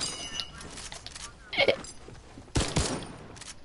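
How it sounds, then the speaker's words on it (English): A new rifle-like sniper gun fires in a video game, sounding as a few sharp, loud shots spread over a few seconds, with speech-like game sound between them. "this is the new gun, guys. It's like a rifle and like it's like a sniper."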